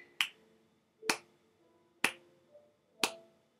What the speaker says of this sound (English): each one of these snaps that you hear, because I'm snapping